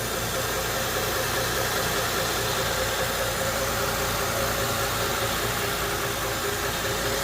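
A Honda 3.0L or 3.5L V6 car engine idles steadily and smoothly with a constant low hum and broadband mechanical hiss, heard up close without pause or talk.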